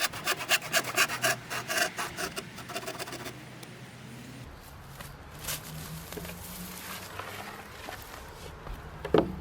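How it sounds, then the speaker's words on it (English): A handsaw cuts a notch in a wooden fence post, its rasping back-and-forth strokes coming in a quick rhythmic series up close before fading into quieter scraping and handling sounds. "the handsaw was much more portable, and it doesn't take any time at all to make the cuts"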